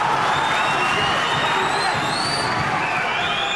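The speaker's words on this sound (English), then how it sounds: "Crowd making a lot of noise now." A boxing arena crowd cheers and roars continuously during a professional bout, a dense, loud wash of voices with whistles and whoops rising above it, steady and without pause.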